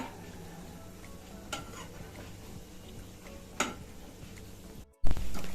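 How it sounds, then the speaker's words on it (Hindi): A snack of Maggi noodles and poha fries in a pan while being turned over, a steady soft sizzle with a couple of sharp utensil clinks, a brief dropout, then a louder burst. "इसको उलट पलट करके हमको अच्छा लाल होने तक इसको फ्राई कर लेना है बस"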